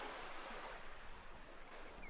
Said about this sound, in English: The currach rides lightly over the waves. The wind cools the face.